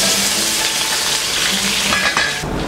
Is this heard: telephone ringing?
no